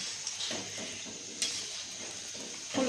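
Luchi, puffed Bengali flatbread, frying in hot oil in a pan: a steady close sizzle with soft stirring and scraping sounds and a few louder clinks, no voices.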